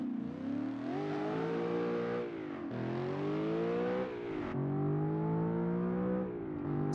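Racing-game car engine, its sound a mix including a BMW E92 M3, revving up repeatedly through gears with rising pitch sweeps and brief dips at each shift, steady and close with no talk.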